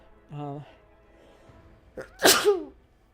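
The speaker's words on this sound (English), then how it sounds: "I'm about to sneeze." A short voiced sound, then a quick inhale and a single loud, explosive sneeze up close.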